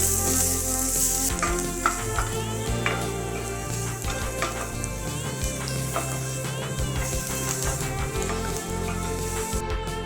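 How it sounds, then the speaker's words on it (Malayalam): Finely chopped medium onion sautéing in a pan for snake gourd thoran, with a continuous sizzle and frequent clinks and scrapes of stirring, steady and close. "ഇനി അതിനകത്തേക്ക് ഒരു മീഡിയം സൈസ് സവാള ചെറുതായി അരിഞ്ഞതും ചേർത്ത് വഴറ്റിയെടുക്കുക."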